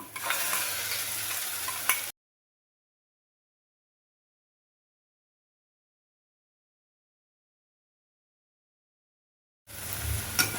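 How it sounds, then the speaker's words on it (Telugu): Tomato and cashew paste sizzles in a pan of fried onion, ginger and garlic as it is stirred, in two short bursts of steady frying hiss separated by a long stretch of silence. "ఇప్పుడు మనం మిక్సీ చేసి పెట్టుకున్న ఈ టమాటా అలాగే కాజు పేస్ట్ కూడా మనం దీంట్లో అయితే వేసేసుకుందాము"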